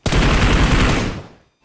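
Dense automatic gunfire from PUBG Mobile on a Redmi Note 8 Pro rattles loudly and continuously for about a second, then fades out quickly.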